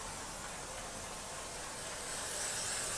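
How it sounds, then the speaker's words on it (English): A steady, close hiss of aerosol carb cleaner spraying onto MGB parts runs throughout, growing slightly louder and brighter toward the end, with no voices. "let me spray a little bit of carb cleaner in here and get him all clean"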